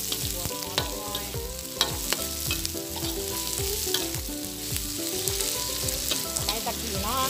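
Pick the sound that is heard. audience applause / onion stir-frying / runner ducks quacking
onion stir-frying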